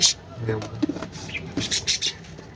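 A pigeon sitting on a clutch of quail eggs gives short, soft coos and murmurs, heard close, with brief chirpy calls and light rustling mixed in.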